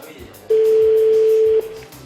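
A single steady electronic telephone ring tone, the second ring of an outgoing call, holds for about a second, loud and clear, with quiet background sound before and after.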